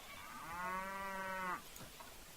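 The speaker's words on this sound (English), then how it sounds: "There's our cattle herd, get over here." A cattle herd in the Mount and Blade Warband video game gives one long, clear moo lasting over a second, fairly close, followed by faint quiet ambience.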